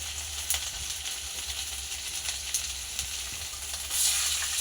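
Garlic sizzles steadily in hot oil in a home kitchen wok, a continuous crackling fry with faint stirring scrapes, brightening into a louder hiss near the end; no one speaks.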